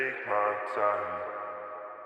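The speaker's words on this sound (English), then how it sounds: "And then you get this big vocal atmospheric effect." A vocal drenched in long reverb in FL Studio swells into a big, atmospheric wash, with sustained tones smearing and slowly decaying.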